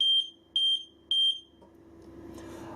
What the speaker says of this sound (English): you can't have that sounder going off indefinitely